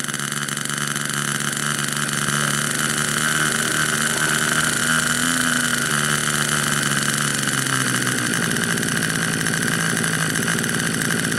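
Nitro-powered 1.73 m RC Cessna 177 Mini Cardinal model plane engine running steadily at high revs, a loud continuous buzzing drone that drops in pitch near the end as the throttle is eased back.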